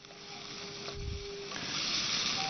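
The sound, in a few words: dried red chili paste sizzling while being sautéed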